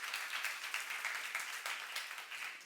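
A church youth congregation claps during a sermon, a brief, fairly soft wash of applause with individual claps audible, continuous throughout with no voices over it.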